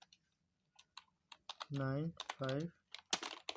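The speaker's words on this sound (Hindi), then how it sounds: "दोस्तों, अब स्टार्ट कर रहा हूँ मैं टाइपिंग।" Someone types on a computer keyboard during typing test practice, producing scattered sharp key clicks in uneven bursts, with someone speaking briefly between them.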